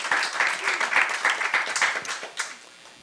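Audience applause at the Houston Music City Forum 2024, a dense, steady patter of many hands clapping through most of the moment before thinning out near the end, with no speech over it.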